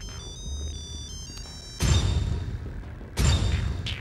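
A high electronic ringtone melody plays, then two loud bursts of thudding, rushing noise cut in over it.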